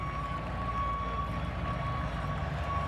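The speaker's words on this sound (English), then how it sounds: "You hear the beeping out there? It's like the big truck backing up." A big truck backs up with a steady reversing beep tone sounding from a distance outside a college football stadium, under a constant crowd and ambient murmur.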